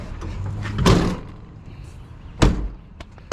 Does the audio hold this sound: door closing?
yes